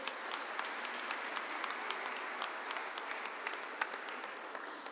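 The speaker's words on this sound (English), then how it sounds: "Let's give them a round of applause." An audience applauds the Boys and Girls Club at a community evening gathering, a steady, dense round of clapping that stays even for the whole stretch, with scattered sharper claps standing out.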